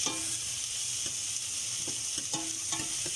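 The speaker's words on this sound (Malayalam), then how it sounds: "ഇതൊക്കെ കൂടി ഒന്ന് നന്നായിട്ട് വഴറ്റുക" Crushed ginger, garlic and green chilli sautéing with onion in a pan, a quiet sizzle under occasional light spoon taps and scrapes, faint and close.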